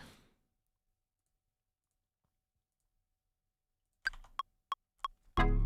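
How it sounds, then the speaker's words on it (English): After a long silence, a handful of sharp keyboard clacks sound close by in quick succession, followed by an abrupt burst of louder sound. "you can hear my keyboard clacking as I end every take"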